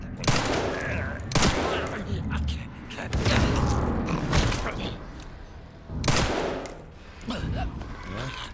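Shots ring out in Resident Evil 9 Requiem in sharp separate bursts, some loud and close, with someone speaking French over and between them.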